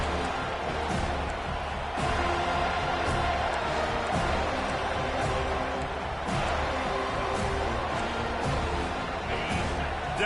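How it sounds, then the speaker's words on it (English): Stadium crowd in the NCAA 25 college football video game swells with steady, loud cheering and roaring on a defensive third down, a continuous wash of noise with an announcer talking over it. "Decibels rising as the crowd gets behind this defense on 3rd down"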